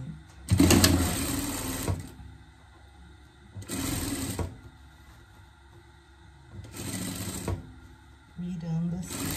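A sewing machine hems a pet dress in three separate runs of steady stitching a few seconds apart, with quieter pauses between them and brief speech near the end.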